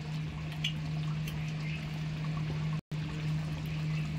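Kewra water trickles into a pot of chicken biryani, a soft, faint pour over a steady low hum that runs throughout.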